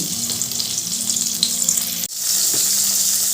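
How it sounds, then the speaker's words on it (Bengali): A small tomato cut lengthwise hits hot oil seasoned with five-spice and dry chili, making a loud, steady close-up sizzle that briefly dips and then returns with a stronger, brighter hiss, with nobody talking. "এবার ওই তেলের মধ্যে দিয়ে দিলাম টমেটো একটা ছোটো সাইজের টমেটো লম্বা করে কেটে আমি দিয়ে দিলাম"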